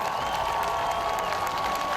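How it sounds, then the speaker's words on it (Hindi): A crowd applauding while watching the Ukrainian president's speech on a big outdoor screen: an even, continuous wash of clapping with a faint sustained tone running beneath it. "इस भाषण के बीच बीच में लोग तालियां बजाते भी दिखे।"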